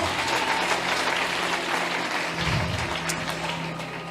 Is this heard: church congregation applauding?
yes